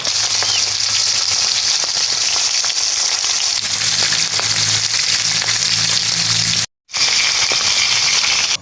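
Bangus milkfish frying in hot oil, a loud, steady crackling sizzle that runs continuously, with one brief cut to silence near the end.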